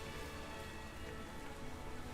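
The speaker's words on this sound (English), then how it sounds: "It's raining." Steady rain falls in a Pokemon Violet game scene, a soft continuous patter and hiss with no voices, even and unbroken throughout.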